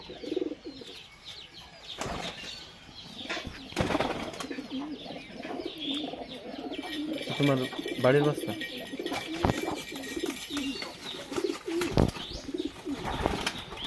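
Domestic pigeons in a loft give soft repeated coos, with occasional wing flaps and handling noises, heard beneath someone talking close by.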